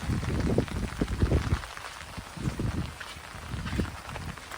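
Rain falls steadily over a cucumber farm field after three days of downpour, a dense close patter with uneven heavier splashes throughout.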